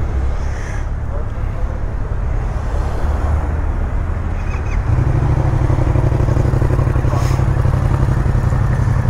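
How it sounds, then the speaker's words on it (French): A motorcycle with a dead exhaust that blows out at the side runs at a roadside police stop, a loud, steady, rough engine drone that thickens and deepens partway through, with wind buffeting the microphone. "Il est mort votre pot, il souffle sur le côté"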